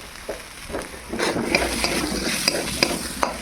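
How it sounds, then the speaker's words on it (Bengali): Soya chunks being added to potatoes and stir-fried in a pan: steady sizzling swells as the spatula scrapes and taps the pan in several quick strokes, close and without talk. "এবার সয়াবিনগুলো দিয়ে দেবো।"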